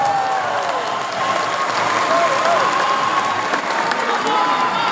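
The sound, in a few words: crowd applauding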